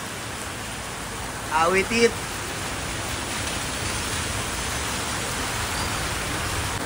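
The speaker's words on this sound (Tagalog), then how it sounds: "Ang lakas ng ulan, oh." Heavy rain falls as a steady, dense hiss throughout, with a brief burst of voices and a short shout near the start rising over the downpour.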